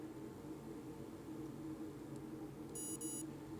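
A Losi Micro Desert Truck with a brushless upgrade gives a short burst of bright electronic beeps from its speed controller during programming, faint and alone over a low hum.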